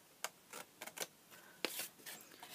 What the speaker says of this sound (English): and then just snip across that corner